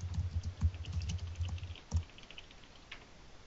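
Quick bursts of keystrokes on a computer keyboard, close and fairly quiet, tapping in an uneven rhythm before trailing off into a few isolated clicks.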